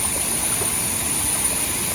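Floodwater from heavy rain in Udupi rushes over a small waterfall, a dense unbroken roar of churning water, close and steady throughout with no voices.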